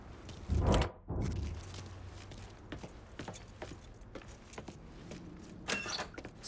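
A set of truck keys jangles as it is picked up in Mafia III, a short metallic rattle up close followed by lighter clinks and faint scraping movement.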